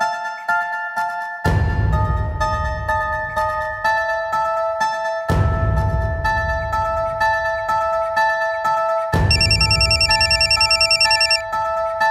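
A telephone rings in repeated bursts, each ring a loud electronic trill starting abruptly, three rings in all with no talk.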